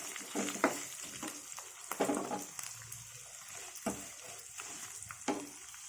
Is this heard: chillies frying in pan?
yes